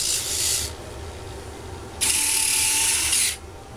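Landing gear struts popping out of an FMS 1430 mm F4U Corsair model plane, heard as two short bursts of bright ratcheting mechanical clicking, the second longer, close and alone.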